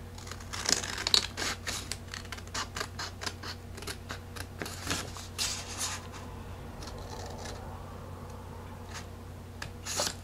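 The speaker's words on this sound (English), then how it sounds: "So we're just going to cut that edge." Scissors snipping along a paper edge for a masked paperclip tag pocket, with a quick series of close, crisp cuts and rustles over a low background hum.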